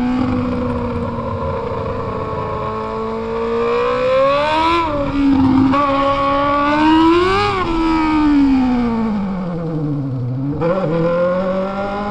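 Loud, close Honda Hornet motorcycle engine running steadily, swelling through two higher revs in the middle before dipping and climbing once more near the end.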